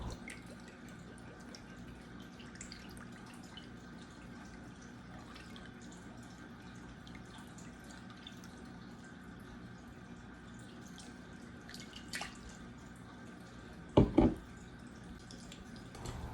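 Soy sauce trickles faintly into a bowl with soft liquid dripping, a quiet wet pour under low room noise, ending in a couple of brief louder splashy pulses near the close.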